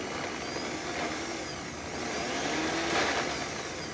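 Vitamix blender pureeing mango, a steady loud motor whir with slight rises in pitch as it runs, continuous and close.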